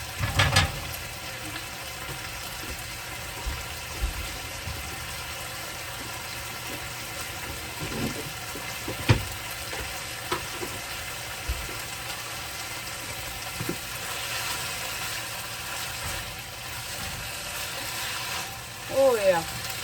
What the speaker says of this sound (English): Shrimp's cooking.